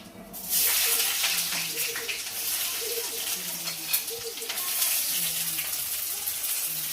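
Onions go into a hot pan of cumin and start sizzling loudly, a hissing fry that begins abruptly and continues steadily, with someone talking in short phrases over it in a home kitchen.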